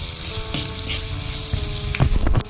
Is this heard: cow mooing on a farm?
no